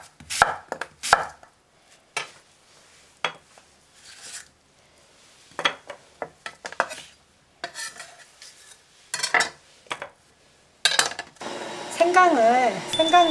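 Half a pear and half an apple are worked by hand, bursts of scraping and knocking against a bowl in uneven spurts with pauses between, ending in a louder clattering stretch, with a voice talking in the background.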